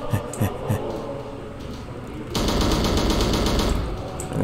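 Sustained AK-47 automatic fire in a video game, a few scattered shots at first, then a loud dense continuous burst from about halfway through to the end.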